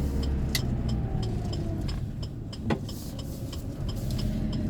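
A 2020 Great Wall Steed twin-cab ute with a 2.4-litre petrol engine and five-speed manual pulls uphill in second gear, a steady moderate engine drone with road noise heard from inside the cab.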